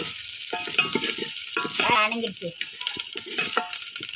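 Moong dal sambar is poured onto onions frying in a pan and sizzles steadily as it is stirred, while someone speaks over the cooking.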